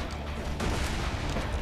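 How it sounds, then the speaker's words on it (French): A heavy cannon nicknamed Big Bertha fires in Borderlands 2, a single loud booming blast at about the half-second mark, with rumbling low-end gunfire and battle noise rolling on around it. "on a la grosse Bertha, c'est le canon"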